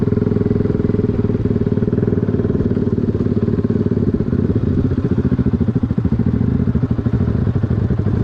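A Yamaha R125 motorcycle fitted with a 180cc big bore kit roars steadily while riding, its engine droning loud and close with a constant rattly pulse throughout and no talk.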